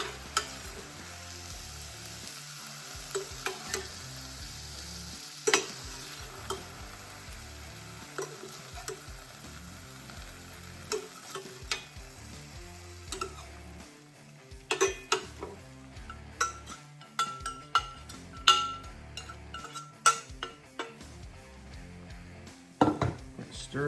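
Mushrooms fry in a pan as a spoon stirs them, giving a steady sizzle with frequent sharp clinks and scrapes of utensil on metal, close and without talk.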